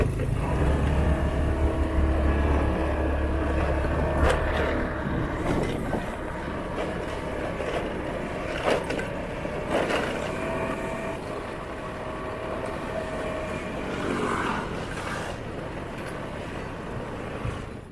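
Motorbike ride in Thailand, a steady loud rumble of engine and road noise throughout with rattles and passing traffic, close up and continuous with no voices.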